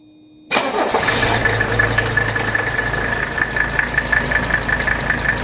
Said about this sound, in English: we want to go ahead and crank the car